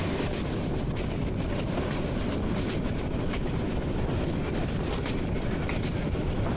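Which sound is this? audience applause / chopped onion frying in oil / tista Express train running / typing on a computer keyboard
tista Express train running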